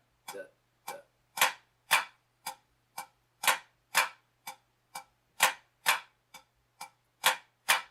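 Drumsticks play a pataflafla pattern on a practice surface, crisp flammed strokes and taps in a steady repeating rhythm, close and fairly quiet.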